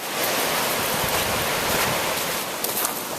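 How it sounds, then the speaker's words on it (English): A flooded mountain creek spilling across a road gives a loud, steady broadband rush of water that continues unbroken from start to finish, with no voices. "looks like the creek's come up on the road right down here"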